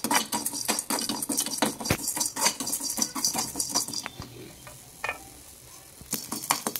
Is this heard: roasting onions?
yes